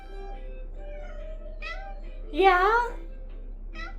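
A pair of pet cats named Morty and Toboggan trade meows, one long wavering meow standing out loudest amid softer mews, with a brief spoken word nearby.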